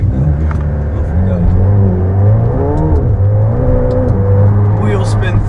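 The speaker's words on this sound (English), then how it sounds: "Wheel spin through Monaco." In a racing video game, a Lamborghini Gallardo spins its wheels through Monaco with a loud droning engine that rises and falls in pitch, and people talk over it throughout.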